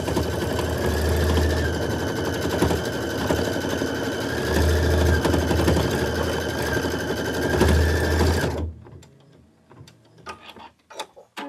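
An embroidery sewing machine stitches out a flourish design, a loud, close, steady mechanical whirring with fast rhythmic needle ticking that stops abruptly near the end, followed by a few light clicks and handling noises.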